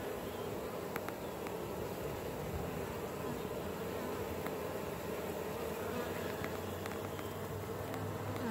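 Honeybees drone steadily and densely at a swarm hive box, a continuous close buzz with individual insects passing near, and no talking.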